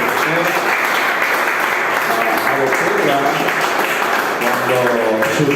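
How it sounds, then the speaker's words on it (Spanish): A crowd claps steadily and loudly throughout, with voices mixed into the ongoing applause. "quiero que lo recibamos con un fuerte aplauso"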